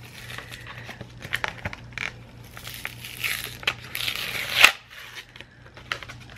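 Crinkly plastic packaging around bracelet elastic being opened up close, with a run of soft crackles and rustles that swell into a brief louder crunch near the end, with no talking.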